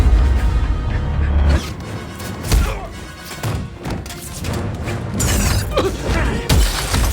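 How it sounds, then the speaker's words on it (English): A film stunt in which a stuntman is thrown through glass fills the scene with a dense burst of crashing and shattering. Heavy thuds and breaking glass rumble loudly throughout, layered with impacts and no clear speech. "I threw this guy through the glass."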